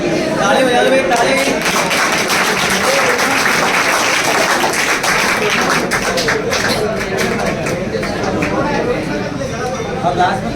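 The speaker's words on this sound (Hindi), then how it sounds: "ताली बजा दो भाई, ताली।" A large audience at an Agniveer honour ceremony claps loudly and steadily, with voices and cheering mixed into the dense applause throughout.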